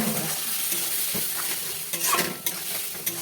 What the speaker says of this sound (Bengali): একটু জিরে গুঁড়ো, সামান্য ঝাল অনুযায়ী লঙ্কার গুঁড়ো পছন্দ করে, একটু হলুদ গুঁড়ো, সামান্য পরিমাণে নুন, আর একটু কষিয়ে নেব।